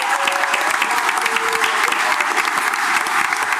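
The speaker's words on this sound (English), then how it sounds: "So give yourselves a round of applause" Audience at a Star Wars: The Clone Wars comic con panel applauding, a loud, dense and sustained burst of clapping from a large crowd filling the room throughout.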